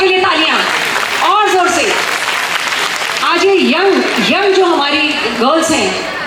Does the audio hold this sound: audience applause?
yes